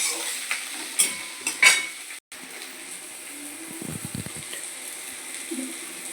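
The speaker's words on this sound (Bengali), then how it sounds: "সঙ্গে টমেটোটাও দিয়ে দিলাম। এবার এটাকে ভালো করে ভেজে নেব।" Tomatoes, onion and green chilli fry in a pan, giving a steady soft sizzle with a few sharp scrapes and clinks of a spoon stirring near the start, then low thuds later.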